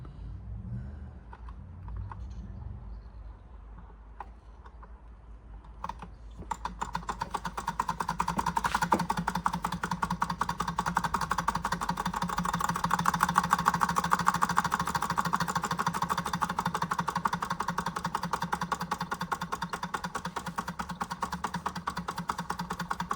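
A 120-year-old George Carette hot air Stirling engine starts up and runs steadily, a fast even ticking and whirring that holds at a moderate level after a quieter start, with no talk over it.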